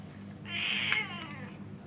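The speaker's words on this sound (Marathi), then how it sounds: "मासे म्हटल्यावर मांजर ओरडला नाही असं होणारच नाही कधी" A cat gives one drawn-out meow near a village kitchen where fish is being cleaned, clear against a quiet low background hum.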